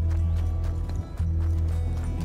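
Loud, close hoofbeats of a galloping horse in Red Dead Redemption 2 drum in a quick, even rhythm, with faint snorting mixed in and a brief break near the middle.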